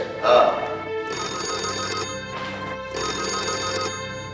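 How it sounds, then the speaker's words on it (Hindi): A household telephone rings in two long electronic bursts separated by a short pause, loud and close, with a brief voice at the start. "1 मिनट, डॉक्टर सुबोध का फोन है"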